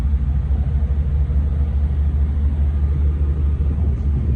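A 2023 International FD diesel truck engine idling nearby, a loud, steady low rumble that holds unchanged throughout with no voices.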